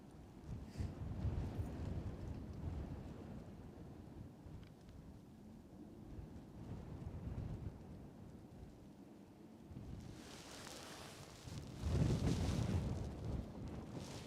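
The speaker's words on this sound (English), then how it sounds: "Seems like the wind is kind of picking up." Gusty wind at the summit of Kilauea volcano on Hawaii's Big Island at sunrise, a broad rumbling rush that buffets the microphone and swells louder toward the end, with no talk.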